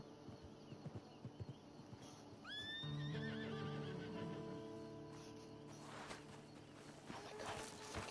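Horse in Red Dead Redemption 2 lets out a loud rising whinny that tails off into a shuddering neigh, with soft hoof clip-clops and footsteps around it and quieter game ambience behind.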